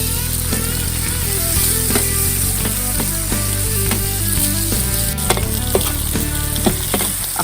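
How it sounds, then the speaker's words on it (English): Chopped onion fries in oil at the center of a paella pan for a pork cutlet and artichoke paella, giving a steady, loud sizzle with scattered crackles and light stirring scrapes throughout, no voices. "I'm going to use the center, where all the oil is, to fry the onion"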